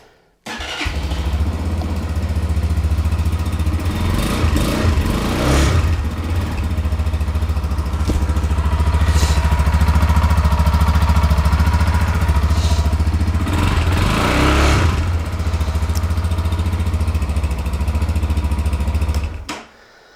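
A KPM 200 street bike engine runs loud and close, a steady low rumble that starts abruptly and holds a constant idle with brief mechanical clatter before cutting off near the end.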